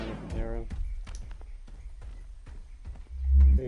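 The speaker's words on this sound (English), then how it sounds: "Big stompy footsteps." Heavy, thudding footsteps from the Predator in Predator: Hunting Grounds stomp in an uneven series of dull impacts, with a deep boom near the end and a voice speaking briefly at the start.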